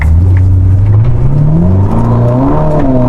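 Ferrari SF90 Stradale engine running close by, a loud, steady, smooth hum with slowly rising and falling pitch, efficient rather than raucous, heard alone without talk.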